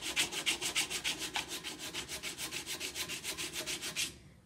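A wooden moneybox is hand-sanded with 80 grit sandpaper to remove saw marks, heard as a close, steady rhythmic scratching of roughly five back-and-forth strokes per second that stops abruptly at the end.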